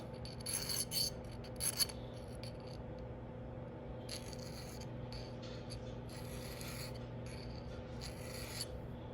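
A file rasps back and forth across the end gap of a piston ring for a 5.3 LS engine, giving short quiet scraping strokes early on and again midway over a steady low background hum.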